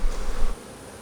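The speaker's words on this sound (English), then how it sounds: "Now we have angry bees. Now they're flying." Angry honey bees from an opened hive buzz close by in a dense, steady drone, louder for a moment and then easing to a softer background hum.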